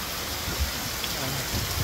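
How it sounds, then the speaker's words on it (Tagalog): Heavy rain pours in a steady, dense hiss with scattered low thuds, as if on a roof, at a moderate level and with no voices over it. "Lakas ng ulan."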